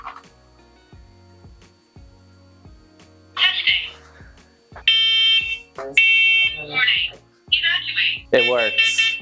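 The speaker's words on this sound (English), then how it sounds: "All right, so we'll test the smoke detector." A smoke detector tested during a public health inspection gives several loud, shrill electronic beeps in quick bursts, with people talking nearby.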